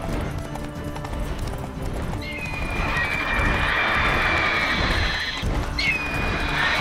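A horse gallops in The Witcher 3: Wild Hunt, its hoofbeats a fast, loud clip-clop running throughout, while a high whining tone rises over the middle and returns near the end.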